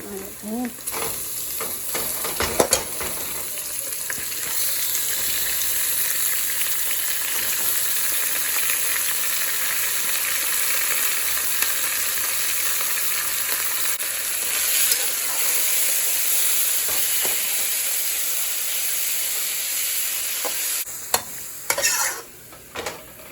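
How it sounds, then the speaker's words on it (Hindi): Two pounds of ground beef keema sizzling and frying in a pan while it is stirred, a steady close hiss with occasional scraping clatters from the spoon, no voices. "ये 2 पाउंड कीमा है बीफ का मेरे पास, ये हम डाल देंगे इसमें।"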